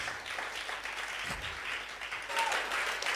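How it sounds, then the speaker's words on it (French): A church congregation applauds during a French-language service, a steady wash of many hands clapping at moderate distance. It carries on without a break for several seconds, with faint voices mixed in. "Est-ce qu'on peut donner de l'acclamation au Saint-Esprit?"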